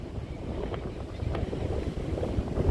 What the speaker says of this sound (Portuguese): o vento está forte aqui, hein?